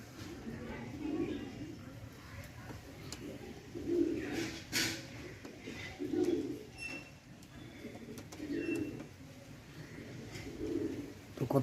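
Domestic pigeons coo in soft, low, repeated phrases about every two seconds, close by, while someone talks quietly over them.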